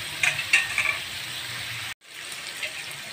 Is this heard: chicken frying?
yes